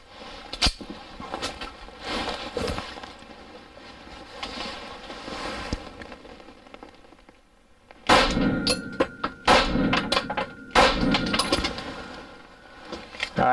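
Federal 124-grain 9mm HST rounds fired from an XD pistol: a few sharp, loud, separate cracks with metallic clangs and rattles between them.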